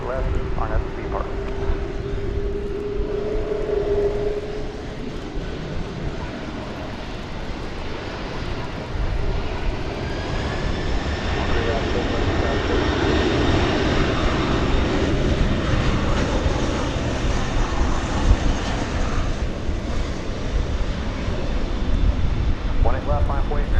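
A heavy jet airliner rolls for takeoff at DFW Airport, a broad, steadily swelling engine roar with a rising whine that builds over about twenty seconds, heard from a distance.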